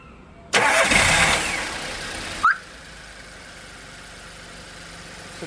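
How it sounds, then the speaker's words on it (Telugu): A Volkswagen Polo car engine cranks and catches with a loud burst, runs briefly, then cuts to a quiet idle hum. "కార్ ఇంజిన్ అయితే స్టార్ట్ చేస్తున్నాను సౌండ్ ఎలా ఉందో అయితే ఒకసారి మీరు గమనించవచ్చండి"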